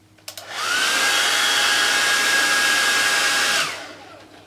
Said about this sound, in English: So I've got a hairdryer.